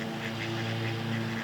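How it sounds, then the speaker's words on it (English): Ducks swim near the shore of a village park, giving a run of quick, rhythmic quacks that sit close and fairly loud over a steady background hum, with no talk. "there's 4 or 5 ducks floating into the shore."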